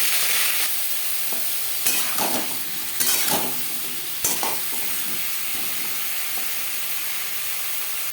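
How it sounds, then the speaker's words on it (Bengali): Potatoes frying in three spoons of hot refined oil in a wok, for an aloo potol dish, with a steady loud sizzle throughout and several sharp scraping stirs near the start. "কড়াইতে দিয়ে দিয়েছি তিন চামচ রিফাইন্ড অয়েল তেল গরম হয়ে গেছে দিয়ে দেবো আলু"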